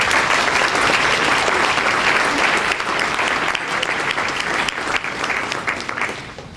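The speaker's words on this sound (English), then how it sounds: "Round of applause for our justice and our audience." Steady, dense applause from a ceremony audience at the 2010 Shad Derby Queen contest, a loud continuous wash of clapping that holds for several seconds before easing slightly at the end.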